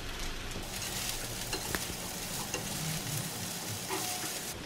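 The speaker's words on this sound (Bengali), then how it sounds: "তারপর 1 টেবিল চামচ সয়া সস, 2 চা চামচ গোলমরিচ দিয়ে আবার নেড়ে নিতে হবে।" Shrimp fried rice with soy sauce and pepper being stirred in a hot pan, a dense continuous sizzle with scattered scraping strokes, close up and alone.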